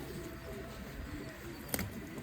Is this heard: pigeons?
yes